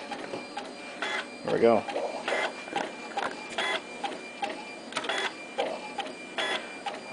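An Epson Stylus 740 inkjet printer prints in short, rhythmic mechanical bursts as the print head shuttles and paper feeds, close and clear, with a brief spoken remark partway through.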